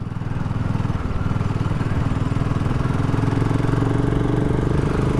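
A BSA Goldstar 650 single-cylinder motorcycle idles steadily, its close, throbbing exhaust note thumping in an even, rapid rhythm throughout with no voices.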